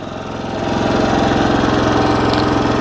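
Westinghouse 4500 portable generator idling in efficiency mode with nothing plugged in, heard close at the exhaust fan side: a loud, steady engine drone with a rapid even pulsing and constant fan whoosh, no voices.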